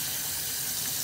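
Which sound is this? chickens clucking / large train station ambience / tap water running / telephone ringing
tap water running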